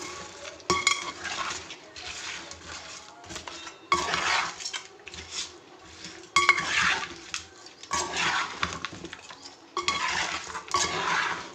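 A spoon stirs fish curry ingredients with oil in a pan, with repeated close metallic scraping and clinking against the pan in uneven bursts over a few seconds.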